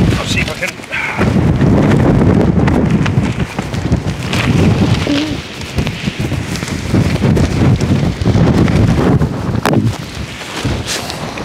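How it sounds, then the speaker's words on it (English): A 40 mph storm wind roars around tents in an outdoor camp, loud and continuous, buffeting the microphone with heavy gusts and rumbling flaps of fabric throughout. "The 40 mile an hour wind it was."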